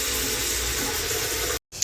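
Tap water runs in a strong, steady rush into a kettle to be heated, then cuts off abruptly near the end before a brief clink.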